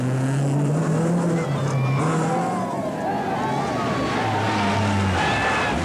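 Rally cars race through a Monte Carlo 1984 stage, engines revving and pitching up and down as they pass under an English commentary voice.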